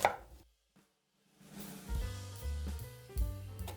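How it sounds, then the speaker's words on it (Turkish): Onions being finely chopped with a knife for Sivas-style mantı filling: a run of quick, close knife strikes on a board after a brief silence, fairly quiet. "kıymamızın soğanlarını incecik kıyıyoruz"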